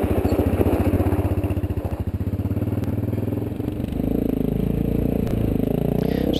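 A four-wheeler ATV rumbles along the wide 717 Divide trail, its engine loud and close with a pulsing throb, then a smoother drone with clattering over rough ground.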